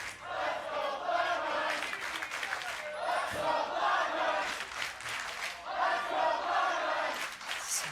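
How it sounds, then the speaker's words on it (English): An esports arena crowd at a North American League of Legends championship match cheers and chants for FlyQuest and Cloud9. The chants form a loud, continuous roar that swells in waves and fills the space. "Who's saying more FlyQuest or Cloud9? I heard a little bit more FlyQuest in that one, but the crowd definitely into this."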